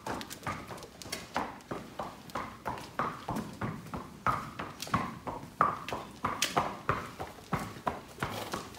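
Horse hooves clip-clop steadily in an 18-stall horse barn, a regular rhythm of close, distinct hoof strikes repeating throughout with no talking.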